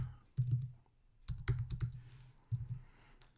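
Quiet, close clicking of keys on a computer keyboard comes in short bursts of taps separated by brief pauses, with no one speaking.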